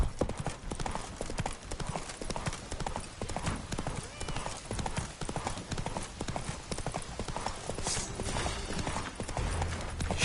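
Roach, the horse in The Witcher 3: Wild Hunt on PS5, gallops in steady rapid hoof beats through a loud, busy game mix, with speech-like sounds and other effects layered over the hooves.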